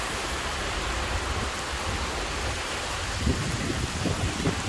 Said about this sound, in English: That's a nice rain.